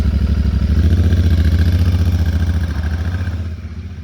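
A motorcycle with its stock exhaust idles loudly and steadily with a deep rhythmic thump, close by, easing slightly toward the end.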